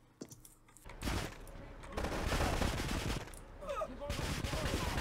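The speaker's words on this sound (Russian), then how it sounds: "этот Фил теперь стрелял по мне" Gunfire in the video game GTA 3: The Definitive Edition, a dense stretch of rapid shots and blasts that rises and keeps going, with a brief talking voice near the start.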